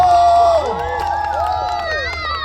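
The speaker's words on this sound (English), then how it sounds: "Make some noise, black people." Loud crowd noise at a live Juneteenth poetry event in Chicago, with cheering and whooping voices rising and falling, a few shouts standing out above the steady roar.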